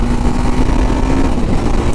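A TVS Apache RR310 motorcycle engine drones steadily at speed during a quick shifter test, a continuous close engine hum with wind noise and no distinct break.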